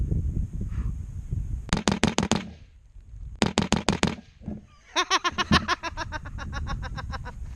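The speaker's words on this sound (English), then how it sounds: "See how it does rapid fire." An AR-15 fitted with a CMMG .22 conversion kit fires outdoors in three rapid bursts of sharp, close cracks, separated by brief pauses, with the last burst the longest.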